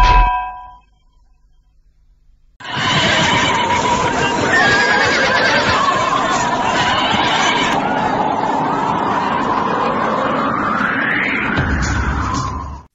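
Horse neighing in a dramatic chase scene, a loud whinny rising and falling over clanging and hoofbeats, with a brief burst of music before it and background commotion throughout.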